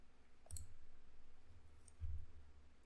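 A computer mouse clicks twice, faint and close, each click short and crisp against a quiet, low hum.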